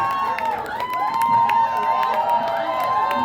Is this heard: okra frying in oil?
no